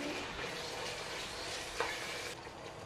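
Chicken and rice vuna khichuri is being stir-fried in a pan. A close, continuous sizzle carries on throughout, with a brief scrape of stirring partway through.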